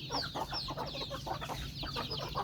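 Chickens clucking repeatedly in quick, overlapping calls, with higher peeping mixed in, close by and steady throughout.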